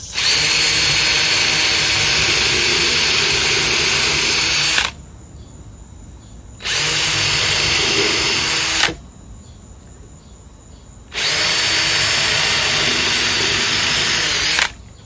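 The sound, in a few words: power drill drilling holes in wood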